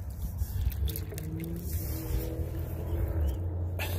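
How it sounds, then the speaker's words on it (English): Low steady rumble of trucks, farm trucks and occasional cars on a distant highway near Lake Ripley, Litchfield, Minnesota, heavy engines droning with a vehicle slowly passing, no voices. "It's mostly trucks, farm trucks, and every once in a while a car or motorcycle."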